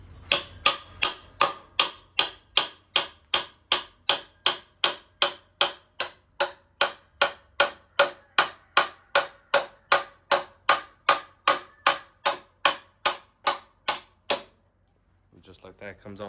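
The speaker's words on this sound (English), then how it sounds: "and I just been hammering it down." Steady metal hammer blows drive a swing arm bolt on an old Honda Trail 70 barn find, about thirty sharp, evenly spaced strikes close up in a regular rhythm, then a brief pause before a voice begins.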